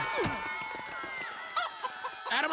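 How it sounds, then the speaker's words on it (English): Chickens cluck and squawk in the Minecraft Story Mode video game, a busy flock of fowl calls over a steady background hum, with a few louder clucks near the end. "Out of my way, chickens!"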